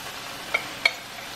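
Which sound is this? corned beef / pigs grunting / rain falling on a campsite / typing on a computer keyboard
corned beef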